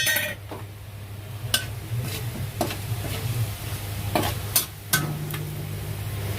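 Whole spices temper in hot oil in a pan: bay leaves, small cardamom, cinnamon, cloves and cumin. A soft continuous sizzle runs throughout, broken by several sharp stirring clinks and scrapes, with no voices.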